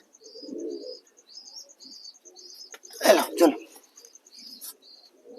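Soft low coos of big yellow American fantail pigeons repeat close by, broken by a burst of rustling and fluttering in the middle as they are caught, with a thin high tone running throughout.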